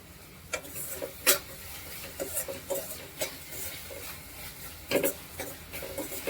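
Onion cooking in a pan for a homemade chicken recipe gives a low, steady sizzle broken by repeated spatula stirs and scrapes against the pan, close and fairly quiet.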